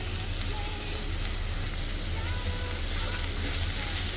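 Garlic cloves and a large piece of ginger fry with onions in a pan, giving a steady, close sizzle with a constant crackling hiss and no pauses.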